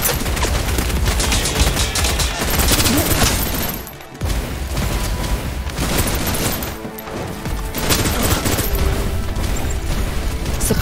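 Sustained, loud gunfire from the shooter game Snowbreak: Containment Zone, dense rapid bursts over nearly eleven seconds with one short break partway through, faint voices beneath.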